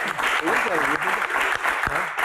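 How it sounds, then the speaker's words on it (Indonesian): Dense audience applause for Kang Sule at a live Q&A stage event, a loud continuous wash of clapping with a voice talking over it throughout. "Tepuk tangan untuk Kang Sule"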